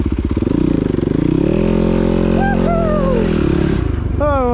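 A dirt bike engine held at full throttle in third or fourth gear on a trail hill climb, a loud, steady close-up roar with the pitch shifting slightly, and a voice over it near the end.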